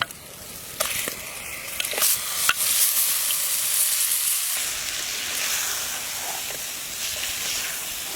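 Chicken pieces sizzle and hiss as they are stirred in a clay pot (matka) with spices, with scraping stir strokes near the start and a steady frying crackle throughout, no talk.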